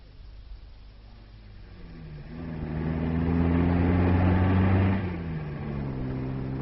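A car passes on a road in a vintage radio drama scene, engine note rising and swelling as it draws near, peaking loudly, then easing off as it goes by, with no talk.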